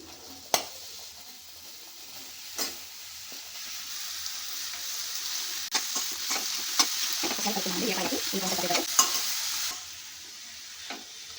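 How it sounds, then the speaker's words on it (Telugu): Ridge gourd pieces fry in oil with onions and ginger-garlic paste, a steady sizzle under repeated spatula scrapes and occasional sharp taps on the pan, close up, with no speech. "ఈవెన్గా కలుపుకుందాము. ఒక 2 మినిట్స్ వేగనిద్దామండి."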